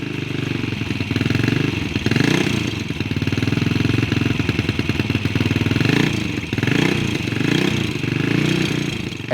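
A Ducati motorcycle engine runs loud and close, a steady torquey throb with rhythmic firing pulses and slight swells in revs, heard alone throughout.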